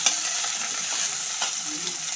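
Onions and spices stirred in a hot pan while cooking, a steady frying sizzle with scraping stir strokes close up, no talking.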